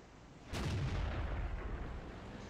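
A KV-1 tank's gun fires once in World of Tanks, a single loud, close boom that hits suddenly and then trails off into a long, rumbling decay.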